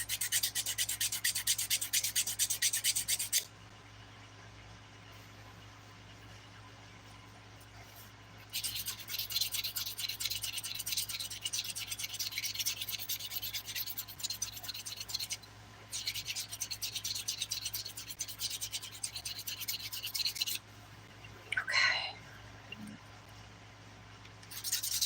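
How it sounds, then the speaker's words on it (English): Fingernail being filed for dip nails, with bursts of dry rasping strokes in several stretches separated by quieter pauses, close and fairly faint over a low steady hum. "This is taking me more filing than normal because this nail is jacked up"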